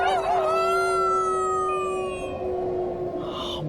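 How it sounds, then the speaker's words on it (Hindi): A dog howls in a long, rising and wavering cry over an eerie, silent night outside an old bungalow, loud and close, with a faint wash of wind underneath. "अचानक से हमें कुत्ते के रोने की आवाज सुनाई दी।"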